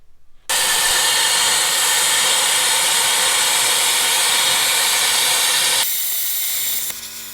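Abrasive blasting on a Willys jeep transfer case: a loud, steady hiss of air and grit runs unbroken for about five seconds, then drops to a quieter hiss before trailing off.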